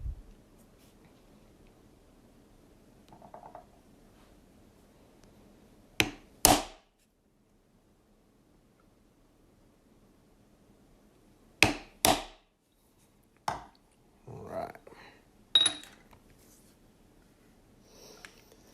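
A maker's mark is stamped into leather during leather tooling: several sharp, close knocks, mostly in pairs, separated by long quiet gaps.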